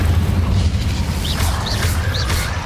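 Bombarda spell explosion in the Hogwarts Legacy video game, a loud sustained boom and rumble with brief bright whistling chirps layered on top, heard alone without talk.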